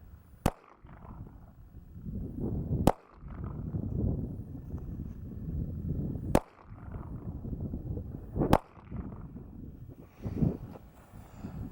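Five sharp pistol shots from a Sig P320 in .40 S&W at a shooting range, fired singly at irregular intervals of a couple of seconds, each a loud crack over a background of wind rumble.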